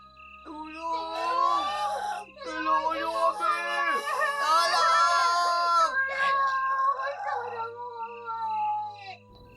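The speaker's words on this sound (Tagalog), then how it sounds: "Sa gitna ng nakabibinging mga sigaw, isang malinaw ang narinig nila, isang boses na puno ng kasamaan." Screaming and wailing voices in a Filipino horror audio drama rise near a mansion: drawn-out, overlapping anguished cries and moans, loud and close, that fade near the end.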